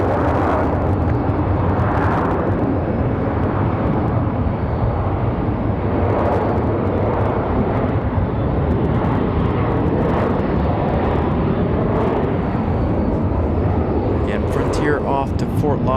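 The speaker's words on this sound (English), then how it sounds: "Frontier off to Fort Lauderdale" A Frontier airliner takes off from Raleigh-Durham airport on a windy day, its loud, broad engine rumble filling the whole stretch without letup.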